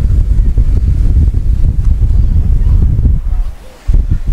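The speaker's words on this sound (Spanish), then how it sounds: "viene la otra tandada de olas, mira" Ocean waves breaking on a California beach, a loud continuous rumbling surf with heavy wind buffeting the microphone, then a brief lull before the roar returns.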